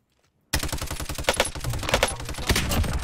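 Rapid automatic gunfire in the Warzone video game bursts in after a brief silence, a loud, dense volley of shots that carries on without pause.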